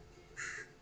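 A single raven gives one hoarse caw in an Alaskan wildlife documentary, faint and distant over low background rumble.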